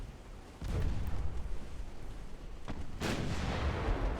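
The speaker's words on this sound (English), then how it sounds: "I don't know if we caused the explosion or if he just lost it from a previous fight" Heavy booming blasts from a warship in a naval strategy game. A deep explosion rumbles in, sustains, then a second burst swells louder near the end, close and dense, with no talking.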